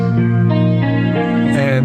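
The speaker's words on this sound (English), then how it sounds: "I'm gonna move next to the guitar line, which creates the main harmony." Sustained electric guitar harmony line recorded through three amps, one a Vox, holding steady, layered notes with smooth pitch changes, loud and continuous across the whole stretch.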